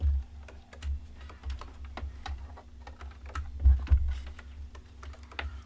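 Rapid keystrokes on a computer keyboard clatter steadily and close up in irregular bursts, over a low constant hum during an Age of Empires IV tournament stream.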